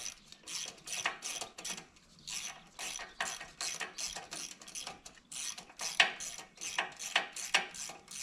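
A ratchet tightening a spark plug on a Kawasaki FR691V mower engine, giving quick bursts of close, crisp clicking repeated in short strokes with brief pauses between.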